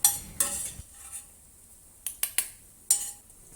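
Diced onion sautéing in a pan for char siu bao filling: a few sharp utensil clinks and scrapes against the pan, spaced irregularly, over a faint background sizzle.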